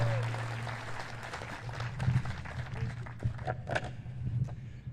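Applause from an audience at a ceremony for a new affordable housing development in Lewiston, a steady patter of clapping running under a speaker's voice at moderate distance.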